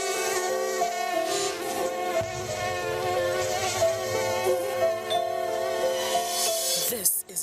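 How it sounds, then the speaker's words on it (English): Close, loud mosquitoes from an insecticide advert, a continuous high whining buzz with several overlapping tones that holds steady for several seconds before a brief rustle at the end. "Don't let mosquitoes spoil the fun."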